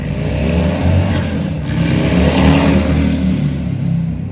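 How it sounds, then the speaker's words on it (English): A motorcycle rumbles past outdoors, a steady low engine drone that swells and slightly eases, moderately close and heard alone without talk. "I know you heard that motorcycle."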